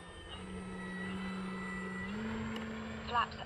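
An E-flite T-28 electric RC model airplane passes slowly with landing flaps down, its steady motor tone holding then stepping up slightly, continuous and moderately near, with a person talking over it.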